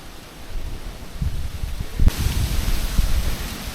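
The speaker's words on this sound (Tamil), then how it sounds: "காற்று செம்மையாக அடிக்குதுங்க." Strong wind gusts across an open hilltop at the Jatayu bird sculpture site, a loud, broad rush with low rumbling buffets against the microphone that swell and intensify partway through.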